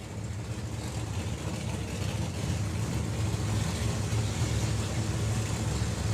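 Nitrous and supercharged Pro Mod drag racing cars roar at a drag strip during the Summer Nationals, a loud, sustained engine rumble that holds steady throughout.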